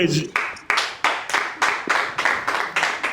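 A crowd claps in a steady, even rhythm of about nine sharp strikes at a religious gathering praising the Lord, loud and close, with a voice briefly heard at the start.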